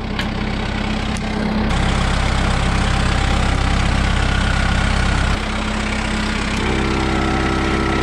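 A 12-volt portable tire inflator runs loud and steady for the whole stretch, with a continuous motor hum and buzz whose pitch shifts slightly partway through, used outdoors around farm equipment.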